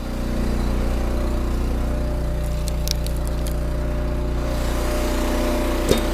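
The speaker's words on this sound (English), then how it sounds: "Let's get the splitter started up. We'll get it warmed up." A log splitter's small engine idles and warms up on a chilly morning before splitting cherry firewood, a steady close droning hum with a few faint clicks and a brief knock near the end.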